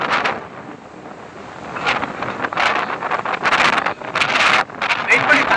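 Strong wind buffets the microphone during a hard boat journey, a loud rough roar that swells and drops in gusts while people talk.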